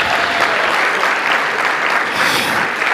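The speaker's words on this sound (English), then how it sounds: "round of applause." A crowd at a primary school graduation ceremony gives dense, sustained applause, loud and even throughout with no voices standing out.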